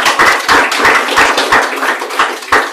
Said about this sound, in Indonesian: Tepuk tangan untuk Pak Master.